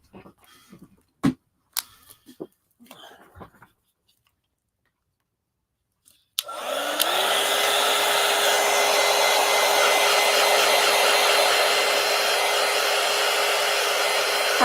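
A hair dryer drying a paper collage switches on after a few soft clicks and handling noises, then blows loudly and steadily up close for the rest of the clip.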